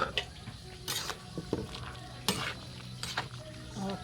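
Carrots go into a pot of simmering kaldereta, bringing a soft background sizzle broken by several sharp clanks and scrapes of a utensil against the pot.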